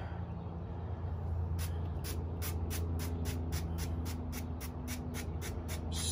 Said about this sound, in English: I'm gonna spray the top of my chicken